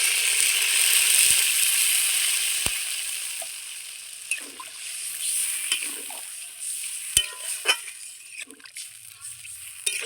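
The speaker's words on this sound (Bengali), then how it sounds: "এইবার আমি গ্রেভির জন্য জল দিয়ে দেবো।" Water poured into a pan of fried potato masala for gravy, a spreading splash and sizzle that fades into soft stirring scrapes and a few small clinks, with faint background noise.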